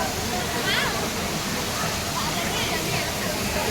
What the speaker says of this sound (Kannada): ಕಲ್ಗುಂಡ ಫಾಲ್ಸ್ ನೋಡಿ ನೀರು ಯಾಕೆ ಬರ್ತಾ ಇದೆ